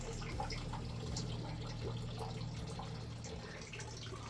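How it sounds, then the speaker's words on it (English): Faint water trickling and dripping through the stonework of an old, abandoned canal structure, a quiet continuous flow with scattered small drips and no voices. "Sometimes you could even still hear the water going through all these things right here,"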